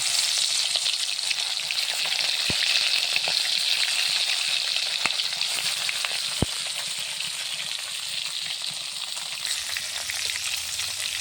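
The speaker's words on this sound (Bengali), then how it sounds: "তেলটা সুন্দরভাবে গরম হয়ে গেছে আমি এখন মাছটা দিয়ে দেবো" Fish fries in hot oil, a steady bright sizzle with fine crackling that runs nearly the whole time, broken by a few sharp clicks and easing slightly near the end.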